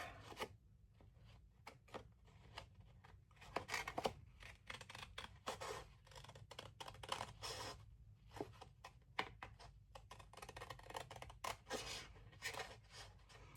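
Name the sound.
scissors trimming a paper journal card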